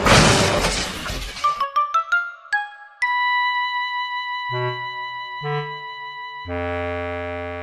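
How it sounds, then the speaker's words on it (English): A model diesel engine smashes through a wooden shed wall, a loud burst of crashing and breaking debris followed by a few sharp clattering hits, then sustained ringing musical tones. "he crashed into the wall at the end of the shed"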